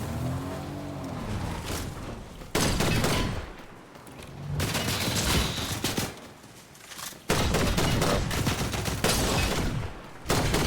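Video game gunfire comes in dense, loud bursts and rapid volleys, with sustained barrages separated by short lulls and crackling shots that keep recurring close by.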